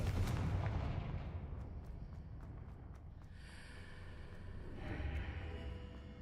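A Confringo blasting spell in the video game Hogwarts Legacy goes off as a heavy booming explosion up close, its rumble decaying over several seconds while a faint shimmering magical tone rises behind it.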